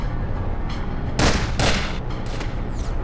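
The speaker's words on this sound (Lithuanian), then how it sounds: "Velnis, jie šaudo." Gunfire in a film scene comes as a few sharp, loud shots and blasts in quick succession over a dense, noisy background, with no voices.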